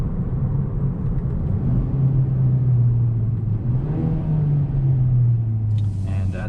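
A 2022 Hyundai Elantra N Line engine drops down through the gears to first, the loud cabin drone rising and falling in pitch with each downshift, heard close from inside.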